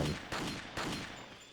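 Two quick, heavy gunshots from the video game Resident Evil 4 ring out close and loud, each with a short decaying tail.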